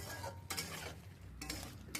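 Spices and chopped tomato being stirred in a pan, with bursts of scraping and soft sizzling that come in short strokes separated by quieter gaps, fairly faint.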